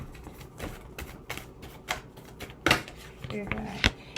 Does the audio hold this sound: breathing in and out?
no